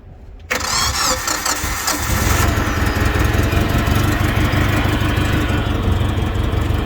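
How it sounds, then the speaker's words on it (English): Komatsu FG25 forklift truck engine cranking briefly, then catching and settling into a steady, loud idle close by. "I'll just start this one."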